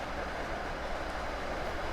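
An MBTA commuter train in the Train Sim World 2 game, heard from outside as a steady, loud broadband rush of rolling wheels and track noise that continues without a break.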